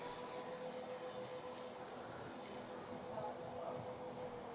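A radio-controlled Douglas DC3 Dakota scale model airplane from VQ Models takes off on its maiden flight, with a steady, even engine drone that holds throughout at moderate distance and no one speaking.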